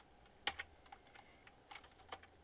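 Keys clatter on a computer keyboard while game code is entered in a Unity tutorial, a few quick bursts of clicks spaced irregularly, close and fairly quiet with no talking.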